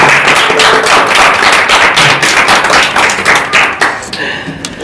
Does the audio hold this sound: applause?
yes